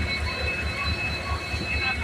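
A train runs on a new track at Kanigiri with a steady low rumble and a faint high wheel squeal, all fairly distant, with no voices over it.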